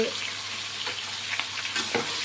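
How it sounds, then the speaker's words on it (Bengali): Potatoes frying in a pan with a continuous close sizzle, broken by a few soft scraping stirs of a spatula, with no talking. "আলুটা একটু ভাজা ভাজা হয়ে যাবে।"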